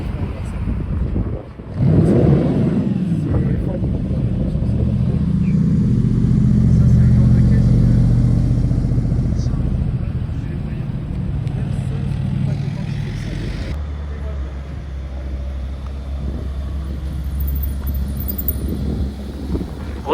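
Cars roll past at a car-spotting gathering in Deauville, engines rumbling loudly and swelling as they pass, with a steady low drone continuing afterward.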